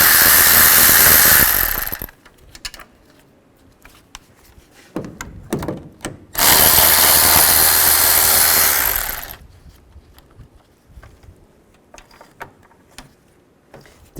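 A power tool spins a 10mm socket to remove bolts from a radiator cooling fan bracket on a 2011-15 Kia Sorento, two loud sustained whirring bursts separated by clinks and clatter of metal parts being handled, with no talk.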